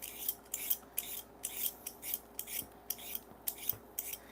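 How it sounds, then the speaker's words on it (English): Potatoes for hashbrowns are peeled by hand in quick, rhythmic scraping strokes, each a short, crisp rasp, close and fairly quiet with no talking. "I'm going to go ahead and just peel them real quick, rinse them, and shred them"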